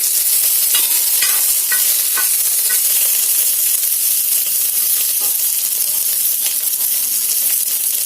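Curry leaves hitting hot oil in a pan while radish fry is being cooked, giving a loud, steady sizzle and crackle with occasional stirring clinks throughout.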